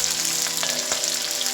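Cumin, green chili and ginger frying in a pan, with a steady close sizzle and a couple of brief stirring clinks, no voices.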